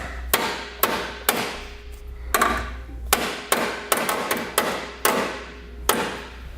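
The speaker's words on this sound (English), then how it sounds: "we can hit it with a hammer and bend it flat into this recess part" Sharp metallic hammer blows bend a metal alignment tab flat into a recess on a Roadmaster crossbar-style base plate, about eleven fairly evenly spaced strikes ringing out close and loud.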